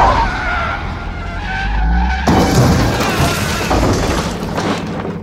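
A town car rams ahead in a Terminator movie action scene: loud screeching tire skid and engine roar, then an abrupt impact that gives way to continued harsh crashing and rumbling noise.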